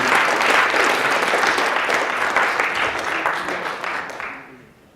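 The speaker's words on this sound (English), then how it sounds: "everybody, round of applause, please." Sustained crowd applause at a blockchain kickoff event in Chicago, dense clapping that slowly tapers and fades out toward the end.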